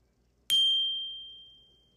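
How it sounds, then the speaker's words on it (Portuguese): A single bright notification bell ding, struck once with a sharp attack, then ringing as a clear, sustained tone that slowly fades over a quiet background. "E o sino das notificações, já ativou?"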